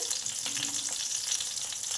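Green chilies and black cumin sizzle in hot oil over medium heat, a steady, close, crackling hiss that runs the whole time with no voices.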